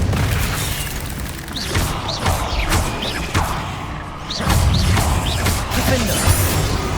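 Repeated Confringo fire-spell blasts in the game Hogwarts Legacy: a string of booming explosive bursts and crashes, several close together, with a heavier impact near the middle, loud and up front with no talk.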